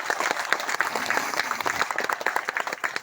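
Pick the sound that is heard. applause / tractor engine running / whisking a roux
applause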